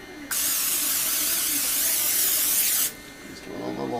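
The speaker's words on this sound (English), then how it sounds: "I'm going to spray my pie tin." Non-stick cooking spray hisses onto a pie tin in a homestead kitchen, one sustained close burst of about two and a half seconds, then a quieter room background.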